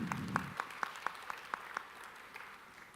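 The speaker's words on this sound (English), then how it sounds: "let's give them a round of applause and appreciate them" Sparse, faint clapping from a small audience at a national workshop in Kenya, about a dozen distinct claps in a loose, steady rhythm, thinning out toward the end.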